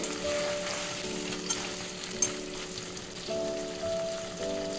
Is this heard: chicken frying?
yes